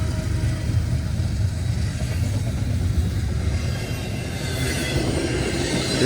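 CSX freight train with mid-train locomotives rumbling past the West Broadway Street crossing in downtown Madisonville, Kentucky, a continuous loud roar of wheels and cars with rhythmic clatter throughout; no speech.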